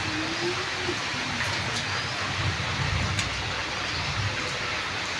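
Heavy summer rain pours outside as a dense, steady hiss that fills the whole stretch evenly, with no distinct thunderclap standing out and no voices.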